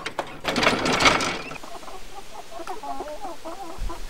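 Hens in a farmyard coop cluck and squawk nearby, starting with a loud burst of noisy flapping or squawking and then settling into repeated, softer clucking calls.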